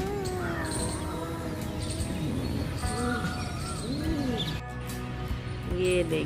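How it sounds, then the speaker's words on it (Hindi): Outdoor birds call steadily, with pigeons cooing in repeated low phrases and higher chirps scattered throughout, at a moderate distance under fine weather. "गिलहरी पक्षी सब बोल रहे हैं।"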